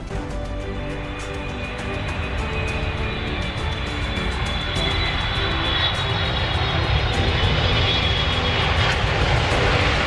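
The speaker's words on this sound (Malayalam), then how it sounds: "ഫ്ലൈറ്റ് ചെറുതായിട്ട് മൂവ് ചെയ്തു തുടങ്ങി കുറച്ച് സെക്കൻഡുകൾക്കകം ഫ്ലൈറ്റ് ഫ്ലൈ ചെയ്യുന്നതായിരിക്കും" Jet airliner engines roar steadily from inside the cabin, the rumble building and growing louder as the plane taxis and gathers speed for takeoff.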